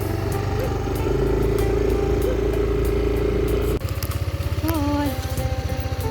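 A motorcycle engine runs steadily nearby, then its note shifts to a rough, pulsing idle with a few rising revs.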